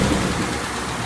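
A 2019 Ford Mustang S550 PP2 with a six-speed manual and quad-tip exhaust idles nearby, giving a steady, even low rumble with no other sounds over it.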